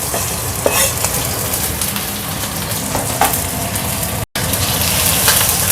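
Garlic and chili stir-fried in hot oil, a loud, dense crackling sizzle close to the pan with occasional spatula scrapes and a brief dropout near the end, no voices.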